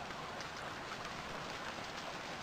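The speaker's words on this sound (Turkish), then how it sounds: "yağmur yağıyor" Steady, even rain falls in the survival game Stranded Deep. A constant broadband hiss continues throughout with no speech.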